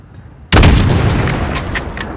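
A single sniper rifle shot in Call of Duty Modern Warfare, a sudden loud crack and boom that rolls into a long echoing tail with faint rattling afterward.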